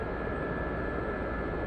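Helicopter flying in the DCS flight simulator, a steady, even rotor and turbine roar droning loud and unbroken with no talk.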